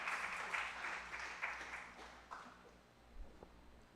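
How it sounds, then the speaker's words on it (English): Applause from a conference audience welcoming a speaker, a steady wash of many hands clapping at moderate distance that slowly thins and fades toward the end. "give her a warm round of applause"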